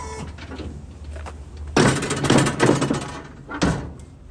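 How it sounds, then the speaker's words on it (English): A library courier truck's rear lift gate clanks and rumbles loudly in a sustained mechanical burst after a quieter start, ending with a final clunk. "That was actually the sound of one of our courier trucks, and I think it was actually the lift gate on the back."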